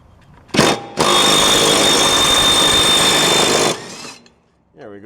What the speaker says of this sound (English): Got the impact on there.